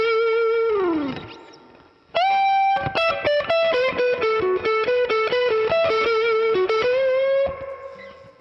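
Electric guitar playing a slow blues lick with effects and light distortion: a bent, sliding opening note, a pause, then a run of quick picked notes ending on a sustained tone, clear and alone.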